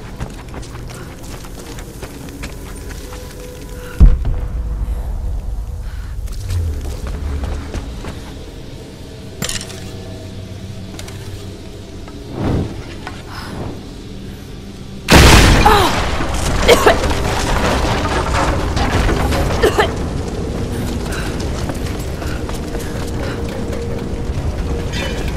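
Greek fire vessels in Rise of the Tomb Raider burst into flame with a sudden booming whoosh, first once early on and again far louder later, followed by sustained roaring crackle over a low mechanical ambience.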